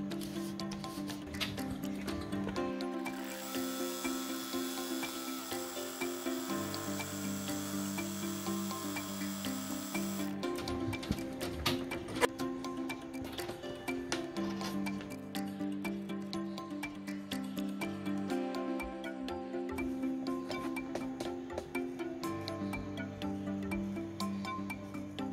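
An embroidery sewing machine tacks down a hot pad, a steady fast mechanical whir and stitching buzz with shifting tones and brief pauses, heard alone for about twenty-five seconds.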